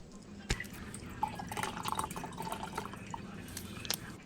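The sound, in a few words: Worcestershire sauce poured into a cup of water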